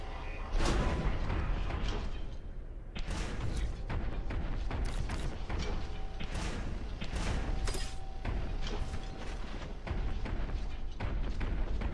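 Grenade explosions and heavy gunfire in Warhammer 40,000: Boltgun, a relentless series of loud booming blasts and impacts, close and dense throughout the fight.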